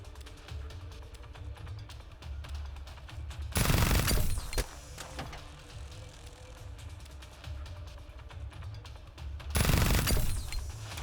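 A turret in the zombie game Reverse Collapse: Bakery Girl fires two loud, dense bursts of rapid shots several seconds apart, with quieter game ambience and small clicks between the volleys and no talking.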